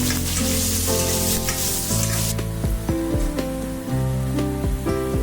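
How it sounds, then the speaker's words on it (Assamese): Onions and green chillies frying in oil in a pan for a fish-head muri ghonto, a loud, close, continuous sizzle with stirring scrapes and clanks of a utensil against the pan. "পিঁয়াজখিনিও দি দিছোঁ, সেইখিনি ভালদৰে ফ্ৰাই কৰি ল'ম।"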